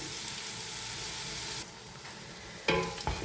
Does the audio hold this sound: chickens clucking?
no